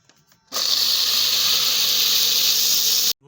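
A mixer grinder grinding moong dal into powder starts abruptly and whirs loudly and harshly for about two and a half seconds, its motor pitch climbing slightly, then cuts off sharply.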